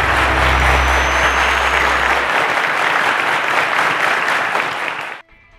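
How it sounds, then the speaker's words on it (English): A studio audience at the Cowbellpedia quiz show applauds contestant Oreolua, a loud, even roar of clapping held for several seconds over a low music bed, then cut off abruptly. "A round of applause to Oreolua."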